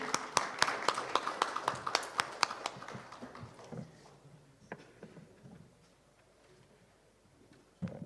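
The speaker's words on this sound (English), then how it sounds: "Let's lift some spirits, please, with claps." Audience clapping at a road transport leaders' conclave on stage, a burst of sharp claps that fades out over several seconds, with a few stray claps afterward.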